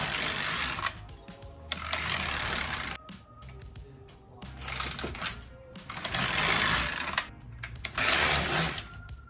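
A knitting machine working rows of a cardigan, its carriage whirring and clattering in loud passes roughly every two seconds, separated by short quieter pauses, close by with no voices.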